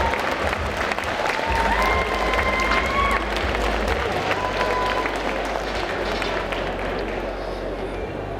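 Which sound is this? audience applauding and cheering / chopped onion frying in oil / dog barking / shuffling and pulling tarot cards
audience applauding and cheering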